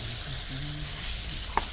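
Country chicken curry sizzles steadily in a pan, a soft close frying hiss with a single sharp clink of the spoon near the end and no talking.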